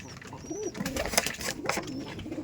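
Rajshahi Giribaz pigeons coo softly in repeated throaty, rolling calls close by, over a light background rustle.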